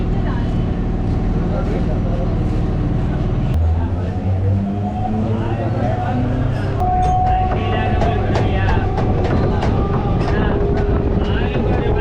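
A Chennai suburban electric train rolls into Saidapet railway station, its low rumble and wheel noise filling the scene, then a long steady tone as it slows, with wind buffeting and a voice talking over it.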